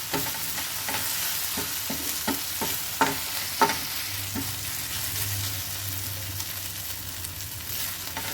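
Egg masala frying on a flat iron tawa gives a steady close sizzle, with a run of sharp spatula scrapes and taps across the first few seconds and no talking.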